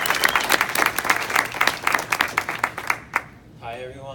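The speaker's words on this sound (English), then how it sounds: "Round of applause." Loud, close audience applause at a student advertising award event fills the first three seconds with dense clapping, then stops as a voice begins speaking.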